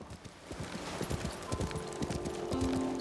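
Horse hooves clip-clopping in a steady trotting rhythm, with game-world ambience and a faint tonal hum underneath, in the video game Ghost of Tsushima.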